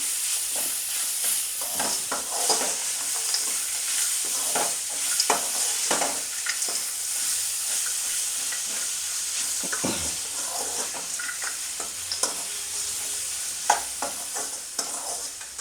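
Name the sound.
stirring grated raw mango mixture in a pan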